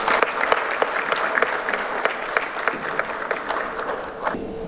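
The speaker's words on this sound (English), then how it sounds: "So the applause is for them" An audience at an academic event in Alexandria applauds, a steady wash of clapping at moderate volume with distinct individual claps standing out, fading near the end.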